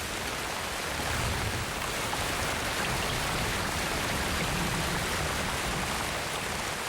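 Heavy rain pours down in the Amazon rainforest as a dense, steady, loud roar of falling water, continuous and unbroken throughout.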